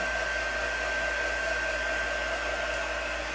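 A hair dryer blows steadily and loudly over a freshly applied craft transfer, a constant even whoosh with a faint high whine running the whole time, no voices.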